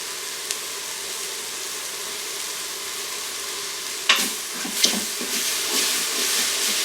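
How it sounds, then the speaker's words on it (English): Garlic sizzles in an Instant Pot for beef stroganoff, a steady close hiss that briefly flares louder with a few stirring clatters near the end, with no talk. "I'm going to toss my garlic in and let that cook for just a minute."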